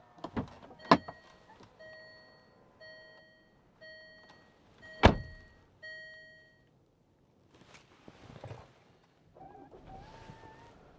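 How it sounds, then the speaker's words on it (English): Short electric motor whirs of a 2014 Range Rover Evoque's power folding door mirrors repeat in a steady series, each a brief hum with a click at the start, amid a few door clunks and thuds. "so power folding door mirrors"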